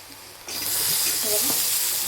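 Chili powder and turmeric hitting hot oil in a pan, a sudden loud sizzle that holds steady and close, with a light scrape of stirring.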